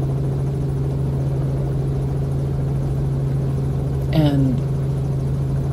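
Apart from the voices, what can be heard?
helicopter taking off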